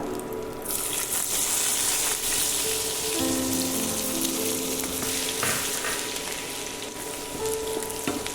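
Small pieces of garlic sizzle in butter in a pan for butter garlic prawns, a steady, bright crackling fry that runs throughout with faint stirring scrapes, close up and with no talking.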